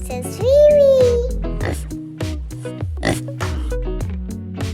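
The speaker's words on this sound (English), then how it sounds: "The little pig says, "Wee wee."" A squealing oink-like vocal sound rises and wavers at the start, followed by a plucky rhythmic melody with short voiced bursts.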